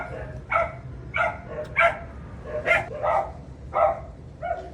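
A dog barks repeatedly at a steady pace, about seven sharp barks, fairly close with a light background hiss.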